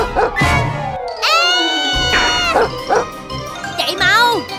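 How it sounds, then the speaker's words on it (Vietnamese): A dog barks several times in short, loud bursts close by, mixed with high ringing jingles and people talking over it. "Con chó này ngốc thật á"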